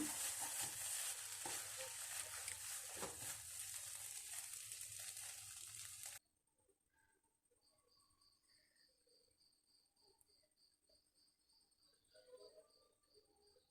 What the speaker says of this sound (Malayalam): ഇനി നമുക്കൊന്ന് ഇളക്കി മറിച്ച് കൊടുത്താൽ നമ്മുടെ അടിപൊളി ഓട്സ് ഉപ്പുമാവ് ഇവിടെ തയ്യാറായിരിക്കും